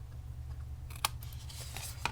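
Scissors snipping through paper cardstock while making a Stampin' Up! hot chocolate pouch, a few quiet close crisp cuts over a low steady hum.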